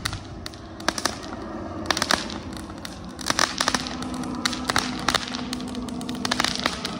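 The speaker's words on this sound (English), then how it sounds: "It'll crackle now." A firework fountain crackles steadily nearby, a dense stream of sharp snapping pops and sizzling bursts over a continuous hiss, loud and unbroken for several seconds without voices.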